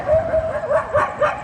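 A dog gives a short run of high, yipping whines and small barks, close and fairly loud, with no one talking.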